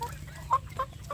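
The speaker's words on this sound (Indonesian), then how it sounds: "Ini alhamdulillah anak ayam kampung saya ini sehat-sehat ya" Young village chickens (chicks) cluck in a few short, soft calls spaced apart, with faint low background noise.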